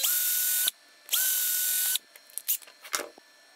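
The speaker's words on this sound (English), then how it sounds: "I'll just drill the other two and I'll be ready to attach this to the end of the neck" A drill bores string holes through a metal hinge for a cigar box guitar, two sustained whining bursts followed by shorter clicks and rattles, close and alone.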